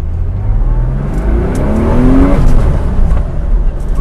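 A Porsche 911 Carrera RS tribute with a 2.7-litre engine accelerates hard, its loud, close engine note rising steadily in pitch through the gears with a throaty rumble.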